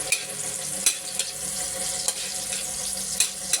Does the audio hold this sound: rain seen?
no